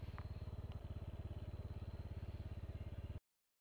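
Motorcycle engine on the Marilaque Highway at night, a steady rapid pulsing rumble held close and even for about three seconds before cutting off abruptly.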